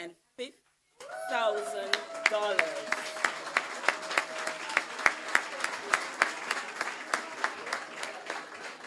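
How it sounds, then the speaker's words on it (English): Audience applause at a Special Olympics Law Enforcement Torch Run opening ceremony, a round of distinct, fairly loud claps rising after a short voice and continuing steadily, with some sharper individual hand claps standing out near the microphone. "I think we need another round of applause"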